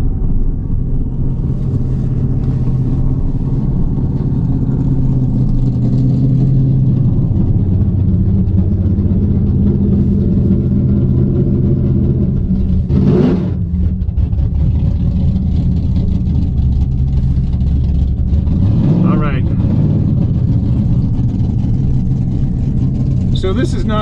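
A combustion-engined car at a drag strip, lined up to race a Tesla Plaid, with a loud, continuous engine rumble close by and two sharp revving bursts partway through.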